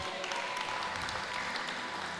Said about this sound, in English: let us give a lovely round of applause